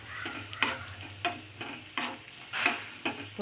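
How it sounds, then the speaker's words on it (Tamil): Vermicelli noodles fry in a pan for payasam, a soft steady sizzle with regular scraping stirs of a spoon, close and quiet with no talk. "பொரிச்சு வரட்டும். பொரிஞ்சு வந்தோடனே இதை போட்டு நம்ம அதில் கலந்துக்கலாம்."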